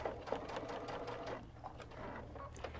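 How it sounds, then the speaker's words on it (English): Sewing machine stitching binding onto minky plush fabric, a close, rapid run of needle thumps with a low motor hum, running steadily without talk. "I'm just going to sew right along here"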